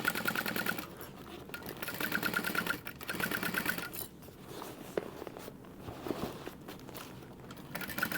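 A sewing machine stitches around a crossbody bag in bursts of steady rapid whirring, stopping and restarting several times, with soft handling noises between runs.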